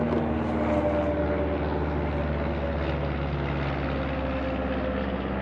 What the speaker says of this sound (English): There's that plane.